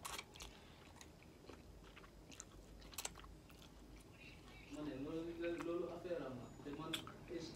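Someone chewing spicy mixed vegetables with cauliflower, close soft bites and crunchy mastication, then a voice talking over the last few seconds.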